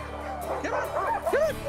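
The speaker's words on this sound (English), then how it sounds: "roughly 40 dogs. They're Yukon Huskies" Yukon Husky sled dogs in a kennel of about forty give excited yips, whimpers and short barks, several voices overlapping close by in a steady chorus.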